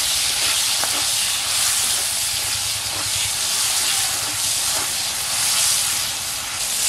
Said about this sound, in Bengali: এটাকে আমি একটু নাড়াচাড়া করে ভেজে নেব।